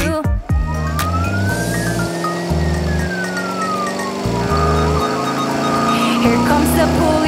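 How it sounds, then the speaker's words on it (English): Police car siren in a nursery-rhyme song for children, a loud rising and falling wail sweeping over a bouncy music backing with a steady beat, sustained for several seconds. "Here comes the police car with lights flashing bright."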